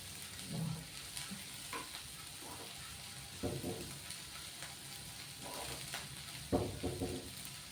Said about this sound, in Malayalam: അപ്പോൾ ഉള്ളി മൂക്കുന്നതോടുകൂടി പച്ചമുളകും അതിൻ്റെ കൂടെ ഒരേപോലെ മൂപ്പാവും